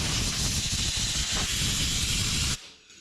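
Carburetor cleaner sprays from an aerosol can onto the dirty carburetor of a 1962 Buick Invicta wagon, a loud steady hiss that runs close to the microphone for about two and a half seconds, then cuts off sharply.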